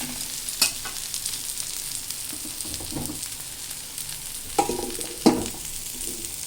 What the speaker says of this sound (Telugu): రెండు వైపులా ఎర్రగా కాల్చుకోవాలండి.